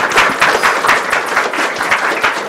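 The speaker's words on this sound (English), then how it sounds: "Big round of applause." An audience applauds at a VR film showcase, with dense, steady clapping from a sizeable crowd, loud and close, sustained throughout.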